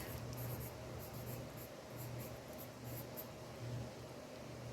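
A short phrase being handwritten on a sketch, giving a close, faint scratchy pen or pencil stroke sound with brief repeated strokes over a steady low hum, no talking.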